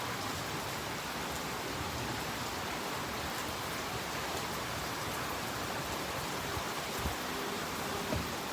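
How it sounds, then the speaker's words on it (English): Heavy rain pours down during a tornado watch, a dense, unbroken hiss of drops drumming on surfaces close by, loud and steady throughout with a few sharper impacts near the end. "It is really raining."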